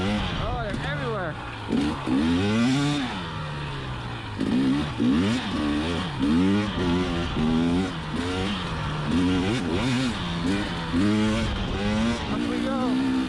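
A 2020 KTM 300xc TPI two-stroke dirt bike climbs a steep washed-out trail, its engine revving up and down in repeated rising and falling surges, loud and close, with no talk.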